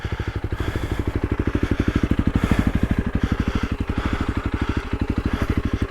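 A Honda CRF300L motorcycle engine runs steadily close by, a dense rhythmic pulsing with a slight swell in revs midway and no voices.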